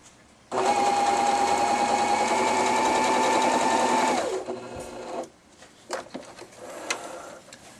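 A Swiss Elna 3210/3230 sewing machine runs steadily through a decorative stitch with a fast, even mechanical whir for about four seconds, then stops, followed by a few small clicks and handling noises.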